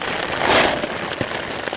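Steady rain patters on a tarp shelter outdoors in a bog, a dense continuous hiss with occasional louder drops.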